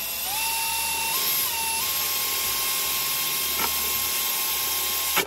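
A drill enlarges a hole to 11/32 inch in a car headlight housing, a high whining motor that shifts pitch as it bites, with a brief knock near the end.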